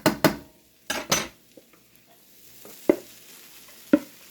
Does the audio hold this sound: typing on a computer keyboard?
no